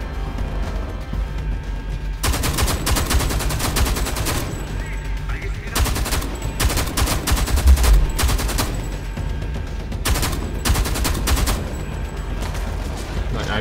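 Gunfire rings out in the shooter Homefront: The Revolution as a player fires at an enemy, with loud repeated bursts of automatic shots in clusters over a steady background rumble.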